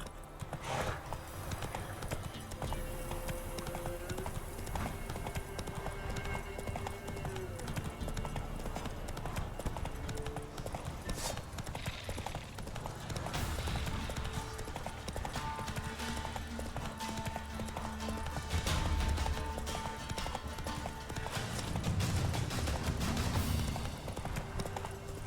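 Horse hooves clip-clop steadily in The Witcher 3 as the rider travels, a continuous rhythmic trotting and galloping beat under game music and ambience, with occasional speech over it.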